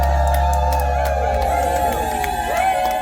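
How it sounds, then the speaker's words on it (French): Birthday party crowd cheering, whooping and applauding for a woman's fortieth birthday celebration, loud continuous cheers and claps over a low music bed, alone without clear speech. "Applaudissez très très très fort, très très très fort"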